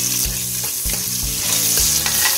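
Onions, cinnamon, cloves and cardamom fry in hot oil with a loud, close sizzle, broken by rhythmic stirring scrapes.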